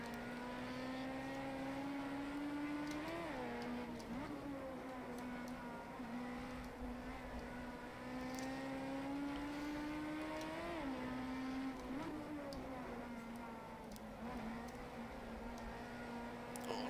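A Datsun Bluebird SSS engine drones steadily in a racing video game, a continuous loud hum that rises and falls in pitch with gear changes and revving throughout, with no talking.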